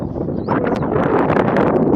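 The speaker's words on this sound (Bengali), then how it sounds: "এত হাওয়া হচ্ছে আজকে" Strong outdoor wind gusts across the microphone in a steady, loud rush that builds slightly partway through, with faint rustling underneath.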